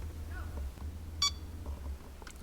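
A single short electronic beep from a BlackVue DR750-2CH LTE dashcam during SD card formatting sounds once, clear against a quiet background hum.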